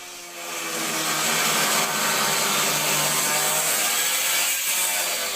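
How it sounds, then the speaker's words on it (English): Loud, sustained whine of large and small angle grinders cutting through the steel wall of a shipping container being turned into a home, steady and harsh from start to finish after a brief quieter opening. "I used large and small grinders to cut the hole."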